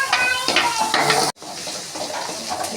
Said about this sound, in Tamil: தாளிப்பில் வெங்காயம் கட் பண்ணதை போட்டிருக்குங்க